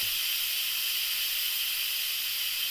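An Instant Pot on a quick release vents steam in a loud, steady, unbroken hiss that runs alone and never changes.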